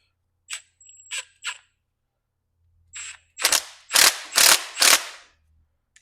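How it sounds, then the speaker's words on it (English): An impact wrench works on a dirt bike brake bolt, first with three short, sharp bursts, then after a pause a series of louder rattling hammering bursts, close and alone without talk. "I guess I will use the impact then."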